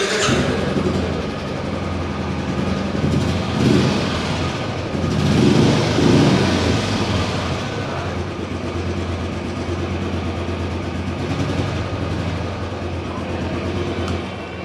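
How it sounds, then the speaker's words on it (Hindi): A Royal Enfield Bullet BS6 single-cylinder motorcycle with kick start rumbles at idle nearby, its exhaust giving a steady, low thumping beat that holds evenly for about fifteen seconds with no speech. "अगर हम इसके एग्जॉस्ट नोट की बात करते हैं तो एक बार मैं स्टार्ट करता हूँ इसे।"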